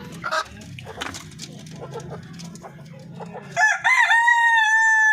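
Native Darag chickens clucking and murmuring at close range, then a loud rooster crow bursts in near the end and holds to the finish, with no speech over it.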